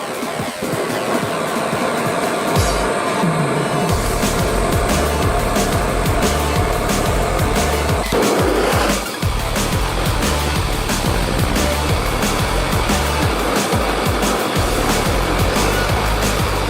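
A gas burner roars steadily, its broad, loud hiss running unbroken while it heats a two-stroke motorcycle muffler to burn off carbon. Close and constant, it rises after a brief quieter start and keeps going without pause.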